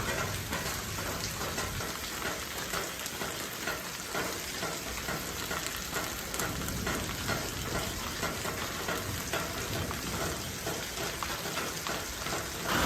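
Heavy rain pours down during a mountain road trip from Delhi to Bageshwar, a dense, continuous hiss and patter close around, loud and unbroken with no talk.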